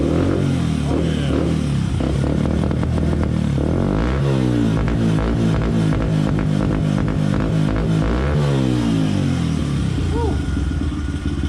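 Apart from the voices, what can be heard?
Honda XR80R dirt bike engine revving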